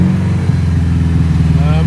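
A warmed-up engine idles a little high after a new sensor was fitted, giving a steady, close, continuous low drone with an even rhythmic pulse throughout.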